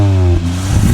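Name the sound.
hatchback car engine revving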